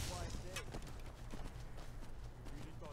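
Horse hooves clip-clop at a quick, regular pace in Skyrim near Markarth, close and fairly soft, running under a background of game sounds and speech throughout.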